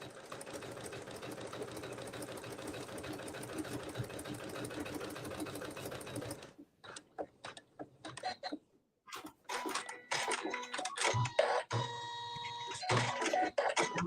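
A Janome 15000 sewing machine runs in a steady, fast stitching drone for about six seconds. It then stops and gives way to scattered clicks, snips and handling noises.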